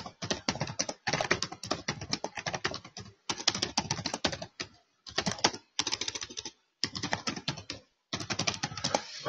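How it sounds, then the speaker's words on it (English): Rapid clatter of typing on a computer keyboard entering keywords into Notepad, coming in dense bursts separated by short pauses, close and clear with no talking. "I'm going to go onto Notepad, type in these keywords."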